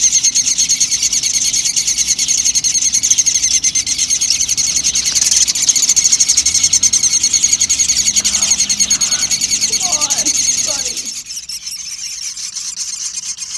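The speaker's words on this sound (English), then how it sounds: "This is a juvenile herring gull." A juvenile herring gull at a wildlife care site gives steady, shrill squealing calls, loud and close, that run without pause before cutting off abruptly and leaving quieter background noise.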